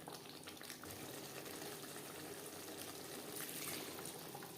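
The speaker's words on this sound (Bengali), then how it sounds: "এবার দিয়ে দেব জল।" Water pours steadily into a pot of Rupchanda fish curry with potatoes over a high gas flame, a continuous gushing splash with no talking.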